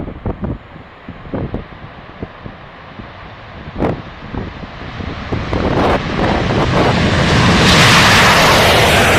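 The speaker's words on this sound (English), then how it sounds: "Today, the order has been given: power them up, prepare for mass takeoff." B-2 Spirit bomber engines powering up for a mass takeoff: a broadband roar that swells steadily over several seconds to a loud sustained rush, with gusty wind buffeting the microphone early on and no talking.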